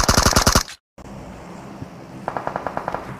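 Rapid bursts of gunfire in the video game BGMI: a loud, fast volley that cuts off abruptly, then a quieter, more distant burst of shots.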